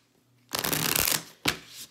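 A deck of oracle fairy cards is riffled and shuffled close up, one long papery burst followed by a shorter snap of cards, in a quiet room.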